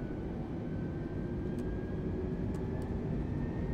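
An Airbus A320neo spools up to takeoff thrust in Microsoft Flight Simulator 2020: a steady, loud, broadband engine roar with a faint high whine runs throughout, unbroken and without talking.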